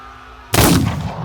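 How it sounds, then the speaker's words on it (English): A single loud, close gunshot from a detective special revolver, a sharp sudden crack followed by a short decaying ring, with no voices. "Knox's ears are still recovering from the gunshot"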